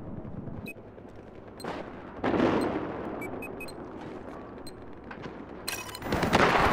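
Gunfire in the video game Battlefield 4, a close-quarters fight with sharp single shots, short bursts and heavier booming blasts in irregular clusters, loud and near.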